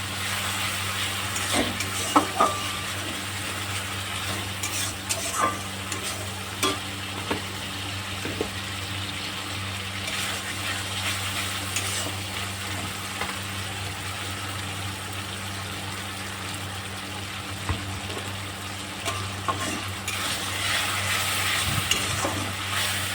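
Fish head curry with masala cooks in a pan after a splash of water, a steady broad sizzle with stirring scrapes and occasional knocks, continuous and close with no talking.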